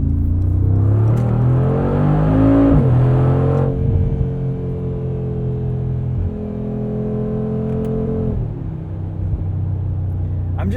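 A 2020 Mercedes-AMG G63's 4-liter biturbo engine pulls hard with a deep, loud, rising roar, briefly dips at a gear change, then settles into a steady, powerful drone from inside the cabin.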